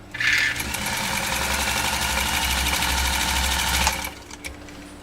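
A 1955 Scottish-made Singer 99K sewing machine stitching through heavy 14-ounce fabric, running in one loud continuous steady whir with rapid needle knocking for about four seconds before stopping.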